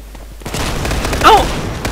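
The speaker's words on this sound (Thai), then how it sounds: "ยิงเช็คกล่องนี่แหละง่ายสุดนะ แล้วก็ยัดระเบิดไปอีกลูกนึง" Gunfire and a grenade in a Call of Duty-style realistic hardcore shooter game, a sudden burst of booming shots after a quiet start, with a sharp louder blast midway.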